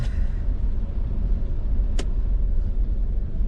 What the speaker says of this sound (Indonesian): Macet banget nih.